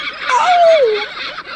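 A person's voice imitating a seagull, one rising-then-falling squawking cry lasting about a second, loud and close, with no other sounds around it.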